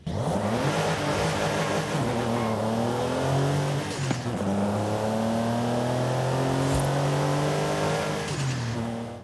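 A BMW M2's 3-litre engine in Forza Horizon 5 revs hard and continuously, pitch climbing and dropping through gear changes, loud and close with no talking.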